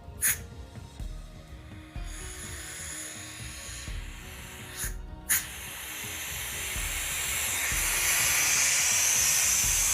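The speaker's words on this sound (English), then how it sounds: "what I'll do is I'll release this air" Compressed air hisses out of a resin casting pressure pot, a steady rushing release that swells louder over the last few seconds, preceded by a few sharp clicks and clunks from the valve and fittings.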